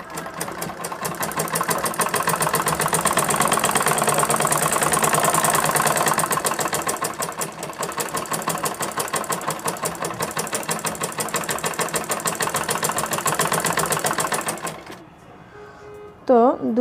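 A sewing machine runs steadily and close by as it stitches a crochet dress sleeve, keeping up a continuous mechanical whir for most of the stretch before stopping near the end.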